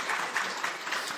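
A church congregation claps briefly during a Sunday service, a short burst of rhythmic hand claps at moderate volume, roughly evenly spaced beats.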